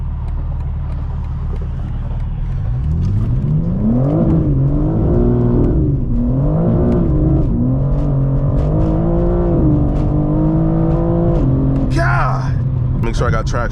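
A 2022 BMW M4 Competition accelerates hard onto a highway, its engine note rising and climbing through gears with loud, sustained revving and a shift near the end, close up with a voice talking over it.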